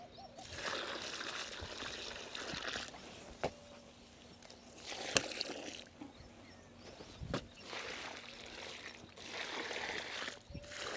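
Jaggery water mixed with cow urine is poured and sprinkled over a bed of cow-dung manure, giving soft intermittent trickling and splashing in bursts with a few sharp knocks, faint and outdoors.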